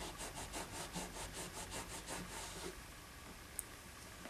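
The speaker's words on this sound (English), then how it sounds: "Hard to make sure that I'm scrubbing this grime off of it." Quiet rhythmic scrubbing of grime off a guitar with pearl inlay: about a dozen quick, even back-and-forth strokes close up, then a soft hissy pause with one tiny tap.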